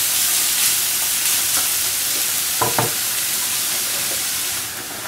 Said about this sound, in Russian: Нужно все тщательно перемешивать, следить, чтобы не пригорела зажарка.